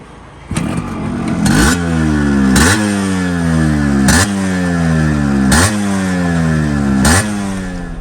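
A Yamaha RX100 two-stroke motorcycle, freshly rebuilt engine, revving in repeated throttle blips about every one and a half seconds, each rising whine falling back to a rattly idle, loud and close with no talking.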